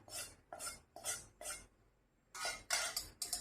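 A spoon stirs puffed rice chivda with oil and spices for Diwali, making close, rhythmic scraping and rustling strokes. A run of four is followed by a brief pause, then faster strokes.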